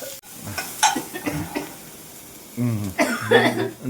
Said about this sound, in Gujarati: બહુ ઉધરસ આવી રહી છે